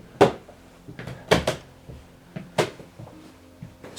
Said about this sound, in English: Stairs are squeaking a lot.